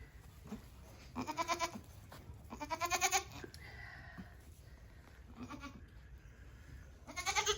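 A goat in labor bleats in several loud, drawn-out bursts separated by quieter pauses, close by and alone with no talk.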